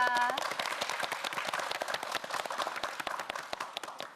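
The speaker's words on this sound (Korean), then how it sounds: "오늘의 킹왕짱 송하선 학생에게 다시 한번 큰 박수 부탁드립니다" At the close of a televised student quiz show, the audience gives the winning student warm applause: steady, dense clapping that carries on for several seconds, with no talk over it, and fades only slightly near the end.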